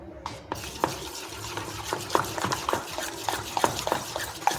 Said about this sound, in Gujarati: તો સોડા ઉમેર્યા પછી તમારે ખીરુંને એકદમ સરસ રીતે અહીંયા મિક્સ કરવાનું છે, આ રીતે